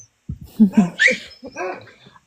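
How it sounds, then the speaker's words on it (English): Several dogs snuffle, whimper and breathe hard in close, agitated bursts as they compete over food, with brief vocal yelps and sneezing sounds at a party gathering. "there's competition now between the dogs for it"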